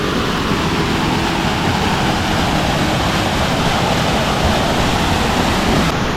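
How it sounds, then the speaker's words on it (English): A small cascading waterfall beside a mountain trail near Lake Agnes rushes steadily, a close, loud and continuous roar of falling water with no voices. "we have a little cascade of a waterfall."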